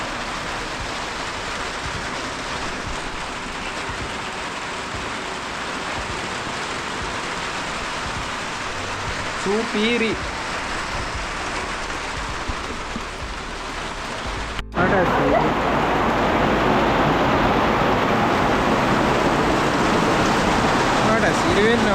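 Steady rain drums on a tin roof, a dense continuous patter that swells louder and closer partway through, with a brief voice heard over it.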